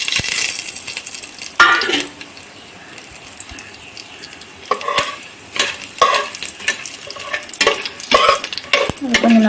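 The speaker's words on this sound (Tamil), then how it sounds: "அதே எண்ணெயில் இப்போ நம்ம இந்த மசாலா ஐட்டம் சேர்த்துடலாம்." Whole spices fry in hot oil in the same pan used for a chana pulao, with loud sizzling, crackling and spluttering bursts as they are stirred and scraped with a metal spoon, close and with no voices.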